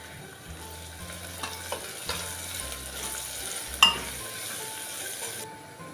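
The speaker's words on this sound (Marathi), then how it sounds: "ह्यामध्ये मी अर्धा चमचा हिंग पावडर घालते, कढीपत्ता घालते आणि तो आपण सर्व मिक्स करून घेऊया।" Softened onion with asafoetida powder and curry leaves fries in a pan, a moderate, steady sizzle broken by several scraping stirs and one sharp utensil clink, with no talking.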